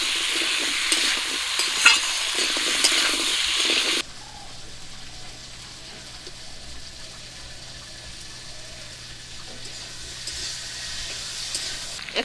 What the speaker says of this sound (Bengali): ওলগুলো একটু ভাজা ভাজা করে নেব।